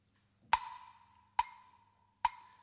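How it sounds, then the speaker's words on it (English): Three sharp metronome clicks sound evenly spaced, each with a brief ringing tone that quickly decays, clear and close in an otherwise quiet room. "We're going to use a metronome again this time."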